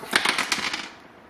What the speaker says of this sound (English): The noise you just heard fall out were just these body posts.